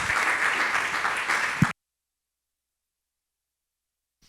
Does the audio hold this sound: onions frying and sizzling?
no